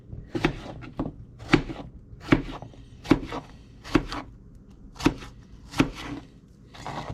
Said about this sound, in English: And then we're going to slice it.